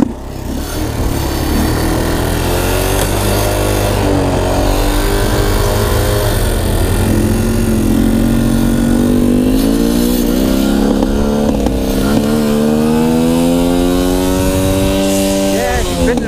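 A Honda Cub motorcycle engine running again after stalling, a loud continuous putter that rises and falls in pitch as it revs, with someone talking over it.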